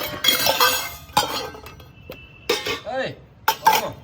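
A child clinks metal kitchen pots and utensils at home, making sharp scattered clanks in bursts, with voices heard between them.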